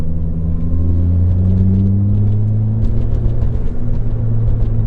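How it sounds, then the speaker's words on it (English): 2016 Ford Fiesta ST driving on a wet road, its engine a loud, close rumble with rising drone tones; turbo whoosh and blow-off valve bursts are not clearly distinct. "I love the sound of that turbo and the blow-off valve."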